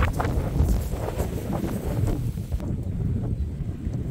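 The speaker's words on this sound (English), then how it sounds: "Quite the wind today" Wind gusting across an open sheep pasture in May, a steady broadband rush with low rumbling buffets against the microphone, loud and continuous throughout without talk.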